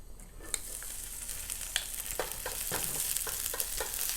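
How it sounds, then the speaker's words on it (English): The white part of green onion sizzles softly in oil for kimchi fried rice, with a low steady fry. Small crackles and pops break through now and then, and stirring can be heard close by. "And then flavor the oil with green onion"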